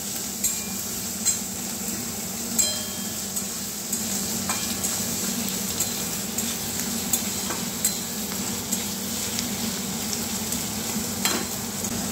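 Chopped potatoes frying in a pan for a Bengali jhinge ghonto with fish head, a continuous sizzle under repeated stirring scrapes and small spatula knocks, close and steady with no talking.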